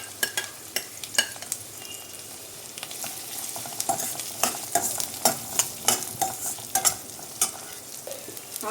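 Chopped medium onions and half a spoon of cumin seeds fry in hot oil, a steady close sizzle broken by repeated sharp scraping stirs that grow busier toward the end, with no voices.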